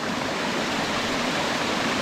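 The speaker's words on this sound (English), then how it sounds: "Look at that big waterfall. It's huge." A big waterfall at Alum Hollow in Green Mountain Nature Preserve, Huntsville, roars in a constant, even rush of falling water, dense and fairly close with no voices over it.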